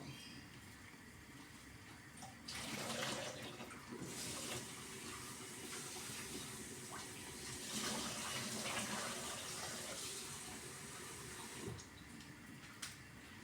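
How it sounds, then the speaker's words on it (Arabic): Water is poured out and rinsed in a kitchen sink, with a steady rushing splash that swells and eases over several seconds, close and continuous, with no talking. "هنا غادي نخوي الماء، نغسلو المرة الأولى نصفيه"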